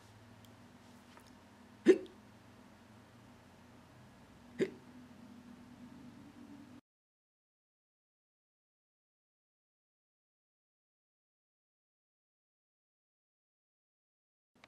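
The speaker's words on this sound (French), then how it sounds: "Il a un tel choc qu'il en a le hoquet." Two sharp hiccups come about three seconds apart over a low room hum, and then the sound drops to silence.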